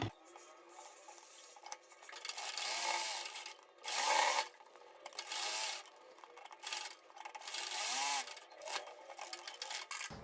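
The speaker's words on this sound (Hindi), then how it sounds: "तो सेम तरीके से हम इसकी सिलाई लगा देते हैं।" A sewing machine stitches the side fitting seam of a simple suit in several short bursts with pauses between them, the steady whirring rising and stopping at moderate volume with no talk.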